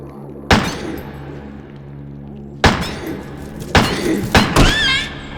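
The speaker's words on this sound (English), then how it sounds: "Four shots on that one because he was too far away when I shot him the first time." Heavy gunshots in the video game Crow Country, four loud booming blasts spaced irregularly with reverberant tails, the last two close together, no talk over them.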